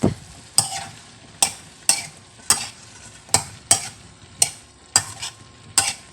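Fried fish and chayote are stirred in a hot pan, a spatula striking and scraping the metal about every half second in sharp close knocks, with a low sizzle running underneath and no talking.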